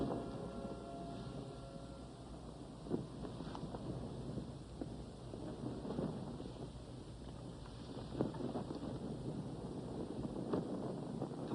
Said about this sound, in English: The wind is growing stronger.